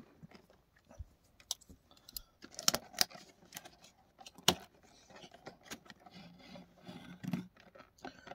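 A Dragon Ball Goku figurine box is opened up close, with scattered rubbing, scraping and crinkling of cardboard and plastic packaging and a few sharper clicks and taps, irregular and fairly quiet.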